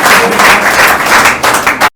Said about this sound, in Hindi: जोरदार ताली हो जाए भैया।